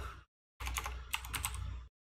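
Quick typing on a computer keyboard to enter a folder name, a short burst of soft, close key clicks after a brief pause, then silence.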